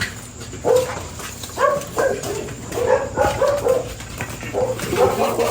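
A dog barks and whimpers at night in Camiling, Philippines, while others harass it. Its short, high yelps and whines come in uneven bursts, fairly close, over a steady background hum.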